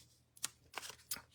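Small two-inch squares of scrapbooking design paper set down one after another, giving three soft, crisp papery taps and slides, close and quiet with no voices.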